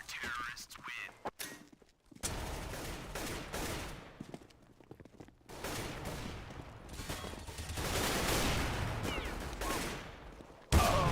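Rapid P90 submachine gun bursts in a CS:GO competitive match, dense and loud through most of the stretch with brief gaps, a player talking over the firing.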